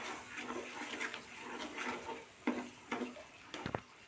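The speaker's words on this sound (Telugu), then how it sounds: "చికెన్ వేసుకొని బాగా కలుపుకోవాలి" Chicken pieces stirred into tomato masala in a cooking pot, giving soft scraping and wet sizzling stir sounds, with a few sharper spoon knocks near the end, fairly quiet and with no talking.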